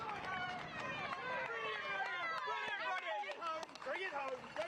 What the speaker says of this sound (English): You can hear that crowd support.